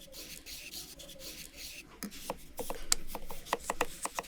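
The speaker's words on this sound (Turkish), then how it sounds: "Bir havucu soyun." Repeated scraping strokes of a peeler on a carrot, soft rubbing at first, then quicker, crisp rasping strokes in an uneven rhythm, close up.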